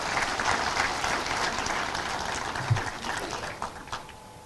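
Audience at a Human Rights Day celebration applauding to welcome the Vice President of India, a broad, sustained crowd clapping at moderate level with a faint low thump partway through.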